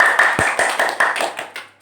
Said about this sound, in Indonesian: Tepuk tangan untuk Mas Taasnya.